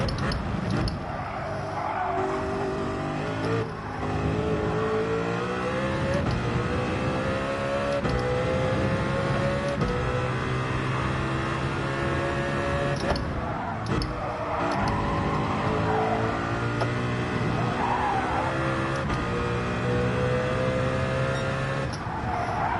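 A race car engine in Gran Turismo 7 revs high and climbs through gears with repeated downshifts and brief tyre squeals, loud and continuous, while a person talks over it.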